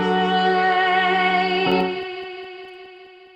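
A sustained distorted tone rings out, then cuts off and leaves a trail of fading repeating echoes from an audio plugin's delay effect that decay into quiet.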